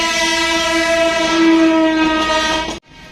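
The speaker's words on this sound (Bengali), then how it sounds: "গাইজ, এই দেখো টয় ট্রেন।" A toy train runs close by with a loud, sustained horn-like whistle tone over rumbling wheels for nearly three seconds before cutting off abruptly into quieter background.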